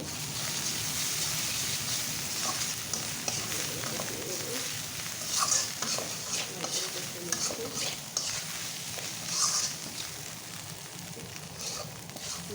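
Egg curry masala with chili powder fries in a pan as it is stirred, a continuous crackling sizzle with scraping stir sounds, moderately loud and steady.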